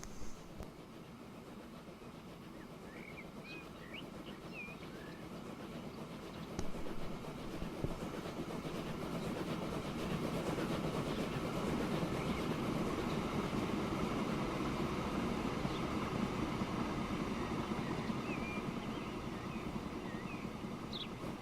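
A freight train in the game Transport Fever rolls along the rails, a low steady rumble with soft clicking that builds gradually and holds at a moderate, distant level throughout.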